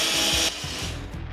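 A battery-powered spot weld cutting tool grinds into a spot weld on a 1967 Ford Mustang fastback body, a close loud high whine for half a second, then a lower ratcheting rumble as it works through the metal.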